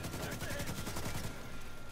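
A rapid automatic burst from an AK rifle fired from the hip in a video game, dense stuttering shots for about a second and a half before trailing off into lingering rumble.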